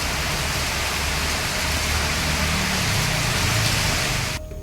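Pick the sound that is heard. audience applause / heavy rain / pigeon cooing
heavy rain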